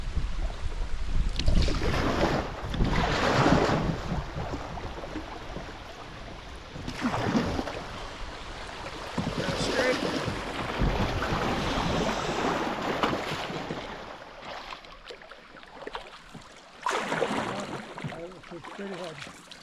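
Canoe running river rapids on the Big Fork River, with surges of rushing water and wind buffeting the microphone, heard close and rising and falling in bursts while people talk.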